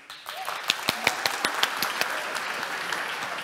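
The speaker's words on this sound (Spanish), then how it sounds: "ese aplauso para Carmen Pérez" Applause at a morning technology presentation event, a steady crowd clapping with a few sharp individual claps standing out near the front, sustained throughout.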